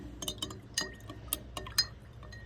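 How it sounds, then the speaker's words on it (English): A butter knife stirs melting old plastic, giving a string of sharp metallic clinks and taps at an uneven rhythm, close and fairly quiet. "So I'm going to stir it with this butter knife."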